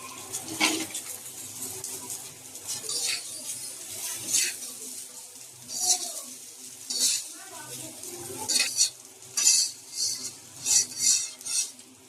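Rice being fried with beans, onion stalks, potato and cauliflower for vegetable khichuri, heard as repeated scraping and clinking of a spoon against the pot in irregular bursts over a soft sizzle.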